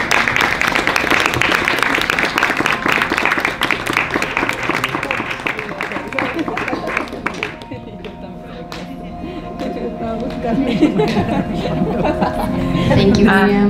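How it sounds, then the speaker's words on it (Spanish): Workshop participants applauding together, dense clapping that thins after several seconds, then voices and light laughter come in under scattered claps. "Ahora pueden unir sus manos para aplaudir si lo desean."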